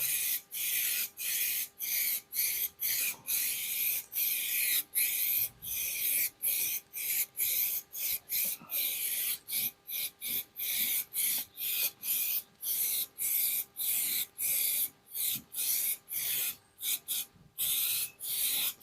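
Hissing bursts from a spray can repainting a car, short sprays repeated in a fast, steady rhythm over a long stretch, close and loud with brief gaps between passes.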